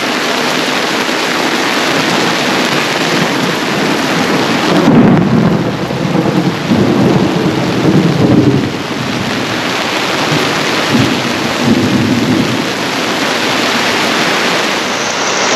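A thunderstorm with lightning and heavy rain: a dense, steady hiss of rainfall with deep rolling thunder rumbling up in the middle, close and loud throughout.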